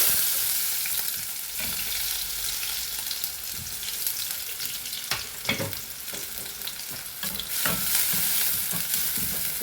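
Mustard seeds and onions fry in hot oil for a Kerala-style chickpea masala curry, giving a constant, close hiss of sizzling with occasional louder stirring scrapes and no voices.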